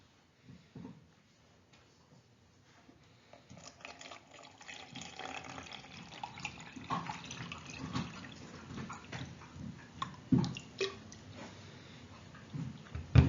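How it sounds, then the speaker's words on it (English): Water is poured from one container into another during a classroom capacity demonstration, with faint trickling and dripping that builds into an intermittent, uneven splash, fairly quiet and close. "I will pour the water from container A to confirm our predictions."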